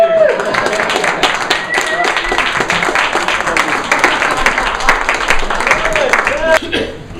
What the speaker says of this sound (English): and you can clap me off the stage.